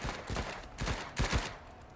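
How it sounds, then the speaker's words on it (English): Submachine guns fire in short bursts in the tactical game Menace, quick clustered rattling volleys at moderate loudness with brief pauses between them. "So I'm just going to tap these guys with the long range on the SMGs."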